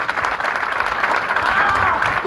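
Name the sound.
audience applause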